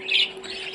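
Pet budgerigars in an indoor bird room give a short, bright burst of chirping, close and fairly clear, followed by softer twittering with no talking.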